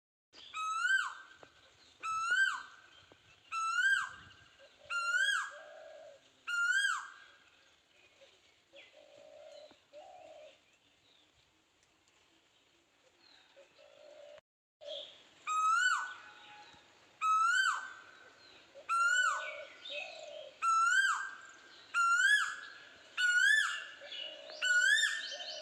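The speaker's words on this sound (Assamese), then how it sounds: "কুলিৰ মাতটো কি ভাল লাগিছে।" An Asian koel calls repeatedly in a rising, evenly paced series of clear whistled notes, fairly close but soft, falls quiet for a few seconds and then starts a new series, with no other sounds.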